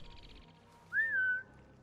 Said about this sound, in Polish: Jest pod X-em gwizdanie.